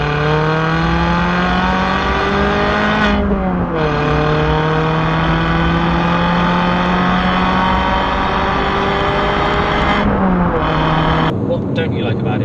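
A Fiat Panda 100HP driving on a road, its engine droning loudly and steadily from inside the cabin, with pitch climbing under acceleration and two brief dips at gear changes.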